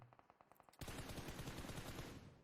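Gunfire in the video game PUBG Mobile begins as a few quick separate shots, then turns into a loud, steady burst of rapid automatic fire that fills the last part of the moment with no talking.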